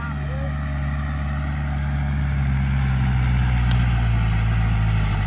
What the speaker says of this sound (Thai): ขับรถไถปั้นนา